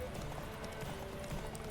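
Horse hooves clip-clop in The Witcher 3 as a faint, steady gallop, set against a rumbling mix of game sound and a voice speaking.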